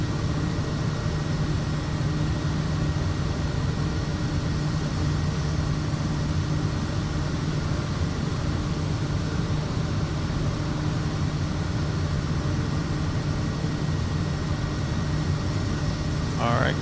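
A Kodiak 100 turboprop at reduced throttle in a flight simulator gives a steady, loud propeller drone with a constant engine whine and tonal hum throughout, unchanging over the whole stretch.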